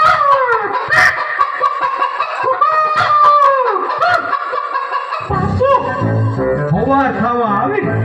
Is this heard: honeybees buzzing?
no